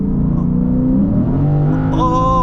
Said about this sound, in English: this V8 from the factory sounds like this with this quad exhaust tip